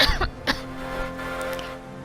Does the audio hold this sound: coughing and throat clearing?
yes